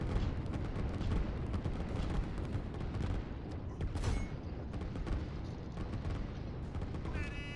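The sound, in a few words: artillery fire in the video game Line War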